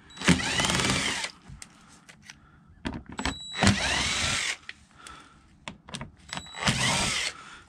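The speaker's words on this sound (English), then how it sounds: "we're just going to zip these out with the impact" Three loud bursts of an impact driver whirring and hammering up close as it removes Phillips screws from a Nissan Altima inner fender liner, separated by short pauses with small clicks and handling noises.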